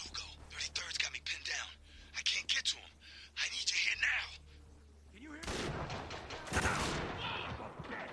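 Magnum revolver fire in the video game Spec Ops: The Line comes as heavy, booming shots mixed with in-game dialogue, followed by a loud, sustained burst of gunfire and debris.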